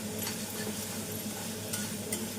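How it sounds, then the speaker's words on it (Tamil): Steady sizzling of onions, tomatoes and green chillies frying in oil in a pan, with a few light scrapes of a stirring spoon, close and continuous. "வெங்காயத்துடன் நன்றாக வதங்கும் வரை வதக்க வேண்டும்"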